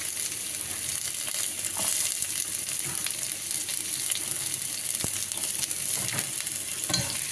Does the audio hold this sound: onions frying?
yes